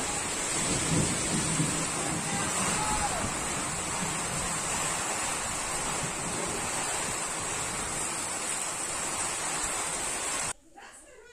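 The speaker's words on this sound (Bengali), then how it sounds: "দেখো কি ভয়ঙ্কর ঝড় আর বৃষ্টি শুরু হয়েছে" Heavy rain pours steadily through a violent storm, with a dense, roaring downpour and low rumbling beneath it. It stays loud and even for about ten seconds, then cuts off abruptly.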